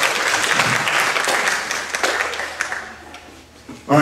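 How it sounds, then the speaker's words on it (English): Audience at an anti-bullying symposium in Muskegon, Michigan breaks into loud, dense applause that holds strong and then tapers off over a few seconds. "Give them a round of applause, though, for trying."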